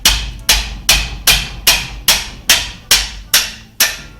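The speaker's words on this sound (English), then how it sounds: "Put a wrench on it and hit it with a hammer" Ten heavy, evenly spaced blows from a 32-ounce dead blow hammer on a wrench, loosening tight bolts on a GM 14-bolt rear axle, roughly two per second, each a sharp close impact with a short ring, no voices.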